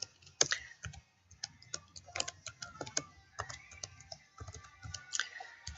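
Someone types on a computer keyboard while entering a password to set up a Gmail account, producing quiet, irregular clicks in quick bursts and pauses, close by with no talking.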